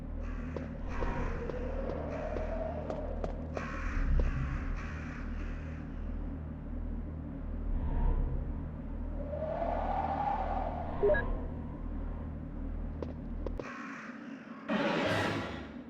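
Crows caw in the Resident Evil game, harsh repeated calls in bursts over a low droning ambient rumble, ending with a sharp louder squawk.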